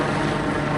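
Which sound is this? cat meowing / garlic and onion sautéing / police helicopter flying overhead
police helicopter flying overhead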